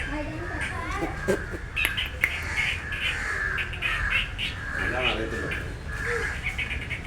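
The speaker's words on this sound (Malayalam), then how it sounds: "ആമസോൺ തത്തയാണിത്." An Amazon parrot squawks several times in harsh bursts amid chatter and voices at a zoo, with other birds calling in the background.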